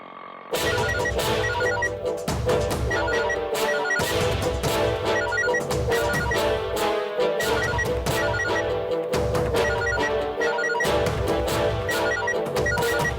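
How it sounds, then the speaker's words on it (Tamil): A telephone ringtone in a Tamil TV serial scene rings loudly and steadily over and over, repeating in a regular pattern for the whole stretch with no one speaking. "திரும்ப திரும்ப போன் பண்ணிக்கிட்டே இருக்கா"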